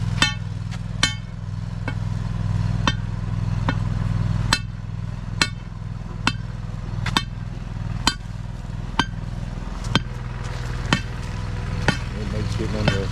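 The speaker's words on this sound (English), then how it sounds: "So he's just gonna drive it in with the sledgehammer." A sledgehammer drives a pipe sleeve under a sidewalk during a sprinkler system installation, landing about a dozen sharp, loud blows in a steady rhythm over a constant engine rumble.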